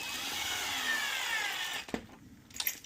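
Power tool drives a screw into a pinball playfield board, a steady high whine for nearly two seconds that stops abruptly, followed by a few small knocks and clicks.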